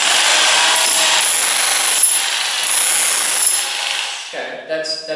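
A hammer drill pressed down into work hammers with a loud, steady rattling grind that fades toward the end, where a voice briefly speaks.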